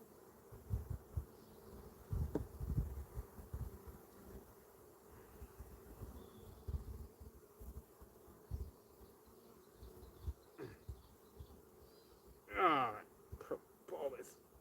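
Honey bees buzzing around an open beehive outdoors, a faint steady hum with a few louder close passes near the end, over soft handling noises and wind.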